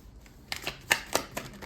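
A short run of soft, papery card riffling and snapping as a tarot deck is shuffled, several brisk bursts close up and fairly quiet, with no voice.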